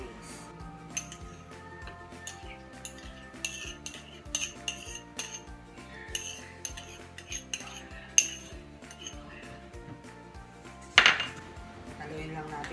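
Spoon clinks and scrapes against a bowl as flaked tuna is mixed with mayonnaise, a few sharp knocks standing out over steady background music.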